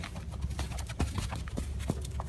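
A horse canters in a riding lesson, its hooves beating a steady rhythmic clip-clop at moderate distance over a low background hum.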